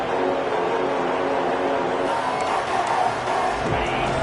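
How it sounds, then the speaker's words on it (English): Stadium crowd at a college football game in a Madden video game, a dense, continuous roar of cheering fans that holds steady and close throughout. "Listen to the crowd energy here in the early going."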